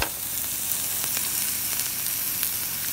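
Coral mushrooms (ramaria) frying in a very hot pan, giving a steady, close hiss of sizzling with faint crackles and no voices.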